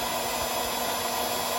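A heat gun blows steadily on heat shrink tubing over vehicle wiring, giving a constant close airy roar with a hum underneath for the full stretch, with no voices.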